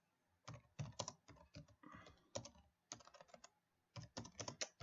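Typing on a computer keyboard, entering a page title in HTML code: bursts of quick key clicks in irregular runs with short pauses between, close and fairly quiet.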